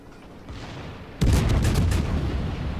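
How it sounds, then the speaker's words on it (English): Heavy naval gun salvo from a Hindenburg cruiser in World of Warships: a sudden loud booming blast that lingers with rumbling, crackling reverberation after a quieter lead-in. "Free shot here. Bam! 6 hit, 10k damage done."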